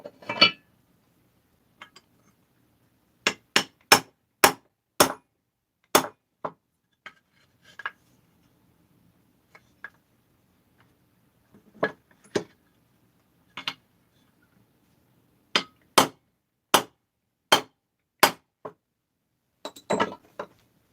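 Sharp metallic taps ring out in quick clusters while a powder-coated Stihl 650/660 chainsaw crankcase part is knocked straight during assembly, each strike crisp and close, separated by short quiet gaps.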